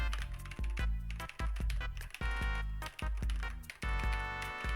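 Typing on an AttackShark K75 Pro 75% keyboard with white linear switches: a steady run of crisp, close keystrokes with deep thocky bottom-outs, several quick presses in a row and a few short pauses, with no talking.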